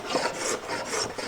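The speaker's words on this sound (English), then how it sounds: "I could scrape a lot of that tear out or get it close enough" A hand scraper drawn across a wooden slab to remove tear-out, close rasping strokes in quick succession at moderate loudness.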